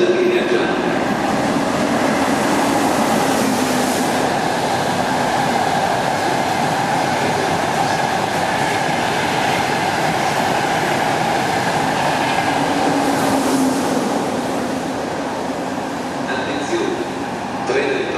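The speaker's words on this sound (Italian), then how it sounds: "Treno in transito al binario 18, allontanarsi dalla linea gialla." A Frecciarossa high-speed train rumbles steadily through Bologna Centrale station for a long stretch, loud and close, with an Italian public announcement voice heard over the noise.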